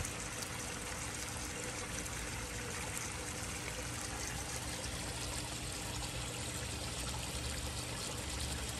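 Water steadily splashing and trickling from a backyard koi pond waterfall, a continuous close, broadband rush with no pauses and no voices.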